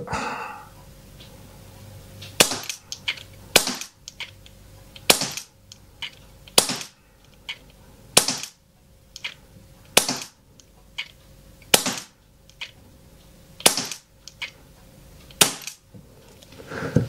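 Shots from an Umarex Avera CO2 semi-automatic 4.5 mm air pistol, about a dozen sharp, loud cracks spaced a second or two apart at close range, with faint handling noise between them and no talking.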